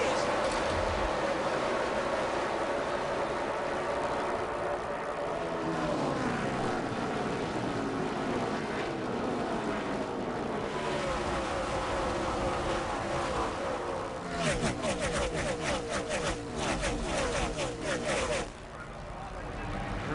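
Full NASCAR field at the start of the 2005 UAW-DaimlerChrysler 400 roaring toward the first lap lead, a dense, buzzing multi-car engine drone with several sharp passing surges, heard under steady race commentary.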